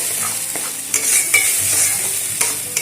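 Mashed flat beans (shim bata) are stirred and fried in a pan, giving a steady crackling sizzle broken by a few scraping stirs of the spatula, close and alone with no voices.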